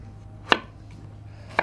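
A knife slices through celeriac on a cutting board, making two crisp, close cuts about a second apart over a quiet background.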